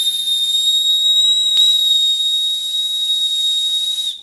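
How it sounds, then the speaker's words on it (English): A single shrill, piercing blast from a keychain emergency safety whistle, held steadily for about four seconds, loud and close, then cut off. "Here you can whistle."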